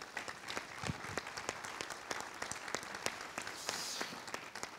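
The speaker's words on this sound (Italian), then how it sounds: "il professor Marcello Flores, Io direi anche un applauso." An audience at a lecture-discussion event applauds at a moderate distance, with brisk, uneven clapping that holds steady for a few seconds.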